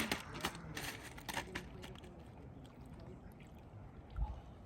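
Water from a cold Patagonian stream on a backpacking trek, with soft trickling and splashing as a hand dips in, a few close disturbances early on over steady flowing water.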